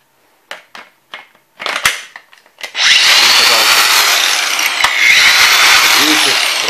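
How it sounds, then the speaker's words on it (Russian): Makita XAG06Z cordless angle grinder on battery power: a few clicks and handling knocks, then the motor spins up to a loud, steady high-pitched whine that runs continuously to the end. "болгарка будет работать, как вы видите"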